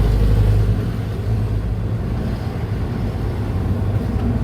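An engine idles with a steady low rumble while its idle stopper screw is adjusted, the idle speed rising and falling unevenly over a few seconds, heard alone and close.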